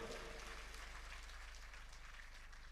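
Audience at a Hindu religious discourse clapping, a faint, steady, rhythmic patter of many hands continuing throughout the short stretch.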